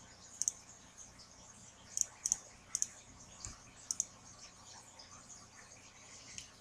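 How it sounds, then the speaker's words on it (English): Mouse clicks on an on-screen heart valve in an interactive diagram: about eight sharp, faint, close clicks, some in quick pairs, scattered irregularly over a quiet background. "All right, I'll click on the valve."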